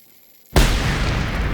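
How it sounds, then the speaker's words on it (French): A grenade blast in the video game Generation Zero: a sudden loud boom after near silence, followed by a broad, sustained roar of rumble and debris that stays heavy to the end. "c'était juste une petite grenade"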